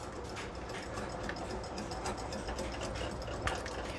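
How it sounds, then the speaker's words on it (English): A whisk works mustard pickle sauce thick with sugar and flour in a pot, giving a steady close scratching, clicking rhythm that runs without pause and with no one speaking. "We wanna make sure that it gets whisked and mixed up."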